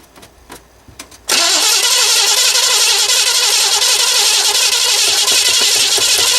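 A Chevy car engine turns over after a quiet moment, then catches and roars into a loud, steady run that holds to the end with no voices.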